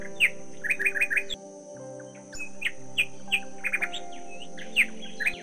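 Parrots in a tree chirp and tweet in quick, bright bursts, several calls stacked close together over a steady background, loud and near, with no talk.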